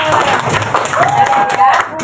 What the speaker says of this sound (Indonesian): Nah, oke, terima kasih tepuk tangan.